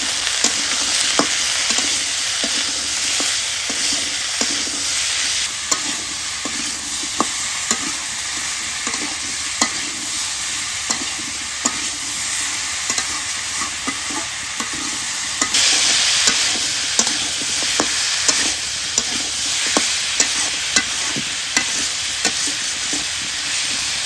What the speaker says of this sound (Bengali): আলুটা তেলের মধ্যে ভাজা হয়ে গেছে